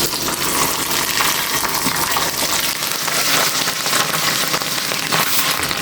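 Chopped coconut pieces fry in hot oil left over from frying ivy gourd, a dense, loud, continuous sizzle and crackle close up, with no talking.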